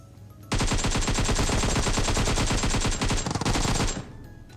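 A long unbroken burst of automatic gunfire in PUBG Mobile, fast evenly spaced shots, loud and close, starting abruptly and cutting off after about three and a half seconds.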